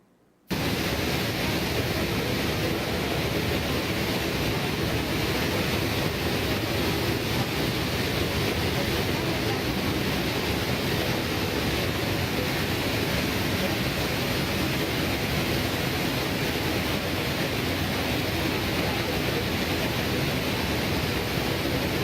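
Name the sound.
played recording of a waterfall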